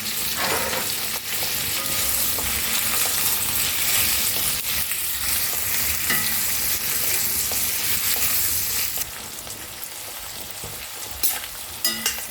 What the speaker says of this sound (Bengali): ভালো করে আমি একটুখানি ফ্রাই করবো